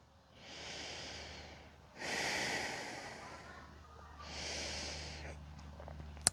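Slow, deep breaths during a yoga session with arms reaching overhead: three long, soft airy exhalations or inhalations in a steady rhythm, close and fairly quiet, with no talking.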